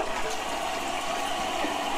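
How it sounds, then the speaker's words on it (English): A toilet flushes after its button is pressed, a steady rushing gush of water close by, filling the whole short moment with no voices over it. "I pushed the flush button again."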